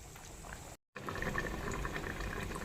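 Godavari-style fish curry (chepala pulusu) simmering on a slow flame, a steady close bubbling and popping that cuts out briefly near the start, then resumes at an even level.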